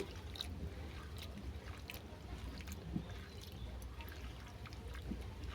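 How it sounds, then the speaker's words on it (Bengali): Cut sweet potato being washed in water, with a continuous soft splashing and trickling and a few small knocks and clinks spread through the sound. "এটা আমি ভালো করে ধুয়ে নেব"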